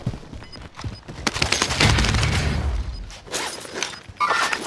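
Gunfire crackles in the shooter video game Warzone, a loud burst of rapid shots and impacts with a heavy rumbling stretch in the middle, then more sharp cracks near the end.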